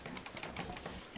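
A pigeon or dove coos softly in a short series of low, rounded calls, ending with a brief louder burst.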